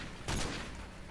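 Gunfire in the video game Modern Warfare 3 on the Decommission Domination map, a short, faint burst of shots lasting a fraction of a second.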